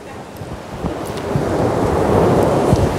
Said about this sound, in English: it rains even harder